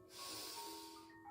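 A slow, steady breath drawn in through the nose during a stretching exercise, faint and close, rising after a brief pause and holding for about a second with no talk over it.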